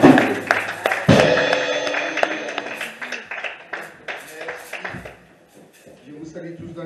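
Church congregation at a Sunday service clapping and cheering to welcome the pastor, a dense burst of applause with scattered sharp claps and voices, strongest at the start and thinning toward the end.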